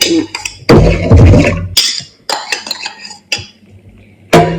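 Salt for homemade play dough is stirred into a bowl with a spoon, giving loud, close clinks and scrapes in irregular bursts separated by short pauses.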